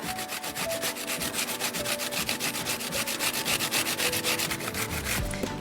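Zucchini being grated by hand on a grater for chocolate chip zucchini bread, heard as a quick, even run of close rasping strokes that keeps going without a break.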